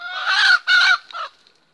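A hen with small chicks lets out three loud, squawking calls close by, each shorter than the last, then falls quiet.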